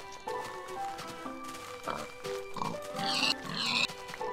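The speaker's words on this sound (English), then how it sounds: "More pigs. Look how many!" Several pigs oink and grunt in the Minecraft video game on flat open ground, a run of overlapping snorts and squeals at moderate loudness.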